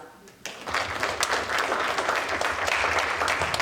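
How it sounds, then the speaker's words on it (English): A round of applause from the audience at a community event honoring youth ambassadors, starting abruptly after a quiet moment and continuing as steady, fairly close clapping from a modest crowd. "I think we all owe her a round of applause."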